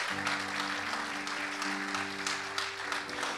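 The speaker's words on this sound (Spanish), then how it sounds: "Denle un aplauso fuerte al Señor." Church congregation applauding during a sermon, a steady dense wash of clapping throughout with a low sustained musical tone beneath, no talk over it.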